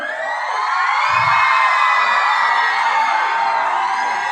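Men in an Onam audience hoot and jeer together in a loud sustained crowd cry, a continuous wavering vocal roar heard close and dense throughout, with scattered whoops rising above it.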